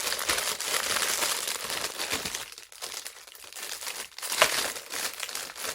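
Packaging from a mail parcel crinkles and rustles as hands work at opening it, a close, busy run of crisp plastic crackles with a few brief pauses and sharper crunches.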